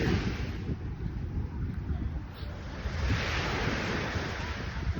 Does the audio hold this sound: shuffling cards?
no